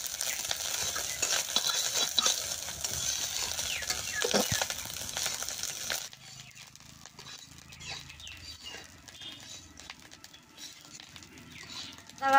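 Leftover cooked rice fries in a pan while a spatula stirs and scrapes through it. A busy sizzle comes first, then it drops to quieter scraping and patter.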